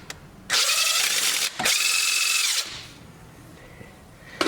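A power tool spins a 7 mm quarter-inch socket to loosen a bolt on a high-mileage 2006 Toyota Camry 2.4L engine, giving two loud, close whirring runs of about two seconds each with a short pause between them.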